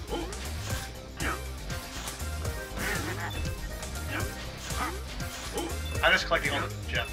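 Duck-like quacks from a bird in Wario Land: Shake It!, sounding in the jungle river stage over busy, rhythmic game music while someone talks throughout.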